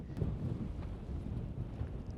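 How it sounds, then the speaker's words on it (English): Strong wind buffets the microphone on a hilltop in the Malvern Hills, with a steady low roar and rumbling gusts, continuous throughout and fairly loud. "Hopefully you can hear it, but it's so windy here."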